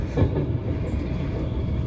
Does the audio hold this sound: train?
yes